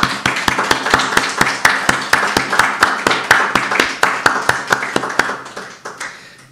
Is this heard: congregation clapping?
yes